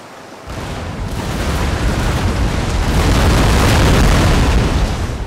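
Naval cannons fire broadsides in a Napoleon: Total War sea battle between sailing warships. The sound is a dense, loud, continuous rumble of overlapping blasts that builds and holds for several seconds.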